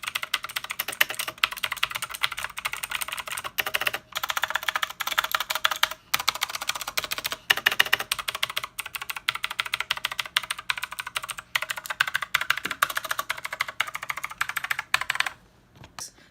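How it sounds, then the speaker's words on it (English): Steady, rapid typing on a HAVIT KB389L keyboard from an Amazon keyboard-and-mouse combo, a close, continuous patter of key presses with brief pauses that stops just before the end. "here's what the keyboard sounds like when typing"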